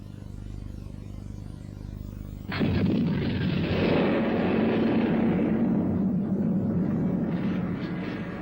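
A sudden heavy blast from explosives blasting rock at a mountain construction site in an animated cartoon, followed by a sustained deep roaring rumble that fills the rest of the clip, loud and close.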